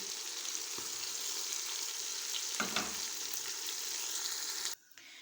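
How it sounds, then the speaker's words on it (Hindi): Turmeric, red chilli, salt, chicken powder and dry coriander roast in a pan with a steady, close hiss, broken by a brief scraping stir midway and a sudden drop near the end. "ये देखिए, मसाले को हमने अच्छी तरह से भून लिया है"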